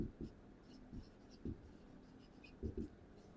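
Pen scratching on paper in quiet short strokes with brief pauses, as someone writes figures by hand during a cost-accounting problem; a faint low background hum sits underneath.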